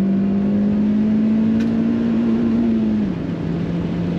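Honda Fit engine at full throttle on the Buttonwillow race track, a loud steady drone holding one pitch, then dipping slightly lower near the end as the car strains, with no talk over it.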